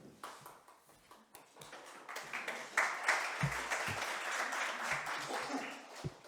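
Applause at a district council meeting starts as scattered, distinct claps and builds into fuller clapping from the room, with some sharper individual hand strikes near the end.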